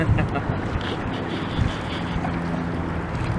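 Wind gusting across the microphone on an afternoon kayak outing near mangroves, a steady broadband rush and low rumble that lasts the whole stretch without pause.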